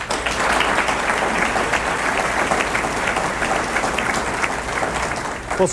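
Audience applause fills the hall at the 2002 Kansas governor debate between Kathleen Sebelius and Tim Shallenburger, a long, even roar of clapping that holds steady for several seconds.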